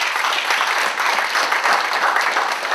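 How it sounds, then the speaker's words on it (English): A student debate audience gives sustained, even applause for the candidates, steady close clapping throughout with little talk over it. "I think we should have a round of applause for all the candidates."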